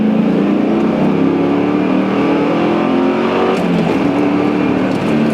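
A black Pontiac Trans Am WS6 accelerates hard in second gear, its engine roaring loud and continuous as the pitch climbs steadily, heard from inside the car.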